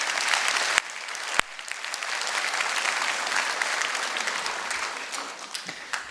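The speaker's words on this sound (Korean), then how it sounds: "우리 교사 선생님한테 격려 응원의 박수를 좀 부탁드립니다" Sustained applause from a large crowd at a church worship service, dense and steady clapping filling the room, with a couple of sharp knocks near the start.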